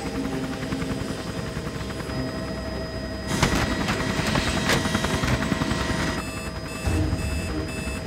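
A helicopter flies in gusty crosswind, its rotor drone steady and continuous at close range, with a high electronic beeping tone running through it and a louder burst of rotor noise partway through.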